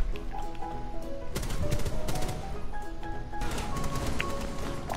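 Shotgun fire in the tactical shooter Rainbow Six Siege, with several sharp blasts spread across a busy, noisy mix of in-game sounds and effects.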